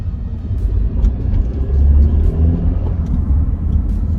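A BMW F30 with the N20 turbo engine pulls hard under boost, a deep, loud rumbling drone heard from inside the cabin that swells and eases slightly as it accelerates.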